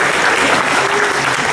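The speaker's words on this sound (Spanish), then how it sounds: "un aplauso para el compañero que estaba ahí arriba y que salvó" An audience claps in a burst of dense, steady applause for a participant, loud and close throughout.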